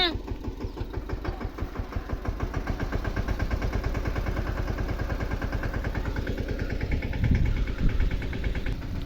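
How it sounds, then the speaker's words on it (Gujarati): A tractor engine runs steadily close by with a regular chugging diesel rhythm, loud throughout, as people talk over it. "ટ્રેક્ટર ફાઇનલી પૂગી ગયું"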